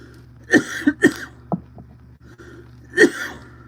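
A person coughs in a few sharp bursts, two quick coughs close together followed by a smaller one and another cough a moment later, close to the microphone with no speech.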